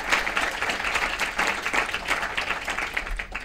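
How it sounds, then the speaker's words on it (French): Audience at a scientific academy welcome session applauds a three-person communication team, moderate, continuous clapping with many hands at medium distance for a few seconds. "je voudrais qu'on les applaudisse tous les trois"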